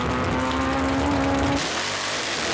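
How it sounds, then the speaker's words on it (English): A 1967 Camaro drag car with a 502 big block and an 871 blower roars at a drag strip, a steady loud engine drone that holds for about a second and a half before giving way to broad, noisy rumble. "It's a 67 Camaro. It's got a 502 big block in it with a 871 blower."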